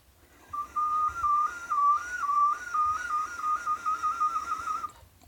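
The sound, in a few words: tooth whistle, soft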